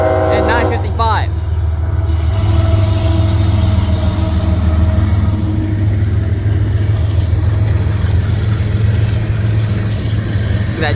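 A CSX freight train rolls past at Kingston, Georgia, loud and close, with a low steady rumble of wagons and wheels and a brief horn-like tone near the start.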